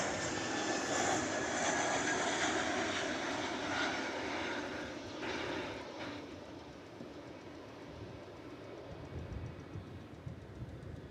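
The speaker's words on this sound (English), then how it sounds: "This is an A350 1000 coming in on the east side from Doha." An Airbus A350-1000 arriving from Doha at DFW Airport rumbles past as a broad, distant jet roar that is strongest at the start and gradually fades into low background noise.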